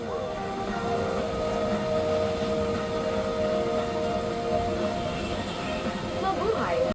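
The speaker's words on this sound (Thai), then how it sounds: "เครื่องบินก็กำลังถอยออกจากเกตแล้วครับ" A steady low mechanical rumble and hum inside a Philippine Airlines Boeing 777-300ER pushing back from the gate, heard from the rear cabin, continuous and even, with a faint whine near the end.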